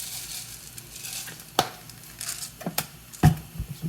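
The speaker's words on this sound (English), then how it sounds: "I'm going to keep this as it's cooking, just kind of squash it, make sure they're all chopped up." Tomato marinara sauce cooking in a pan while being squashed and stirred, giving a low sizzle with a few sharp knocks and squelching pushes of the utensil against the pan, close by and with no talking.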